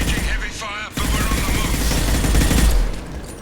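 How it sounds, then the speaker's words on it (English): Heavy gunfire in the video game Mass Effect 2, a dense sustained barrage of shots and bursts that swells loudly mid-clip and continues with voices speaking over it. "We're taking heavy fire"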